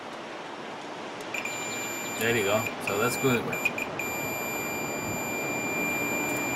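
A multimeter's continuity tester emits a steady, sustained electronic beep while probing the closed door switch of a GE electric dryer, the tone holding through to the end as a person speaks briefly over it.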